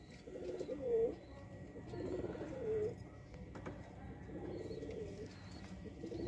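A rare eight-kali chapri female pigeon coos in repeated soft rolling phrases close by, several calls spaced a second or so apart, with quiet background noise and little talk.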